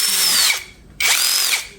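A power drill bores into rubber in two close, loud bursts of high whining motor, each rising in pitch and then cutting off, separated by a short pause.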